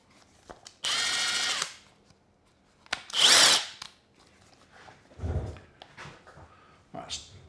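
A power tool tightens 13 mm nuts on battery cables in short bursts, loud and close, with brief pauses, clicks and handling noise between them.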